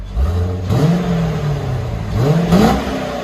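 A 1999 Chevy Corvette with a 5.7L V8 and factory exhaust revs twice, each blip rising sharply then settling back to a steady idle rumble, loud and close with no talking.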